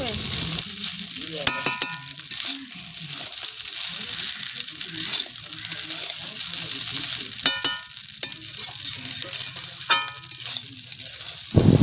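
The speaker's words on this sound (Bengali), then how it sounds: "ঘিটা দিয়ে ভালো করে নেড়ে চেড়ে নেবো একবার।" Fried rice stirred with ghee in a hot pan at home, a continuous close sizzle with scraping spatula strokes and a few sharp metallic clinks, loud and alone without talk.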